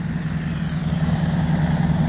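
Fire engines idle at a soap factory demolition site in East Dayton, Ohio, giving a steady, loud low-pitched engine hum that runs unbroken throughout.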